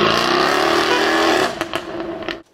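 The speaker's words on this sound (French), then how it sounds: "quand on démarre une caisse avec un 4 cylindres, faut pas s'attendre à un miracle" A Jaguar F-Type P300's four-cylinder engine fires and holds a loud steady idle with a rising tone, then drops off into a few sharp pops and knocks before cutting to silence.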